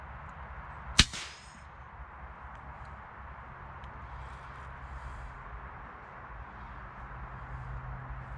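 An FX Crown MKII air rifle fires a single sharp shot at a grey squirrel, a brief crack with a short ring. Before and after it, only a faint outdoor background is heard.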